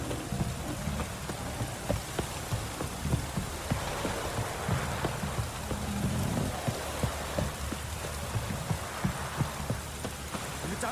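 Heavy pouring rain in the video game The Witcher 3, a dense steady downpour with scattered drop impacts, moderately loud and without talk.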